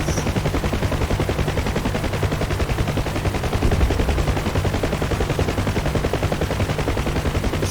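Rapid sustained automatic gunfire from a helicopter's big guns in a troop-drop mission video game, a dense continuous rattle of shots at steady loud level with no talk.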